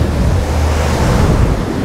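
Sunseeker Manhattan 70 motor yacht cruising at just over 14 knots, with a steady, loud rush of waves and wind buffeting the microphone throughout, no voices.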